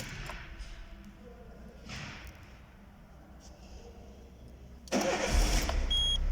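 A Peugeot 206 with a float and fuel pump fault is cranked again in a workshop, with a muffled rumble and brief bursts before the engine catches loudly near the end, while a voice speaks faintly in the background.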